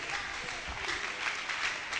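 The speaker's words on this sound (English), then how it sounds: "Can we clap our hands again for our God?" A church congregation at a night session of a youth convention claps hands steadily, a dense, fairly faint wash of applause with no voices over it.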